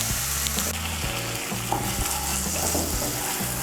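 Moong dal and spices fry in hot oil in a pan, producing a loud, dense, unbroken sizzle close by, with steady low tones running underneath.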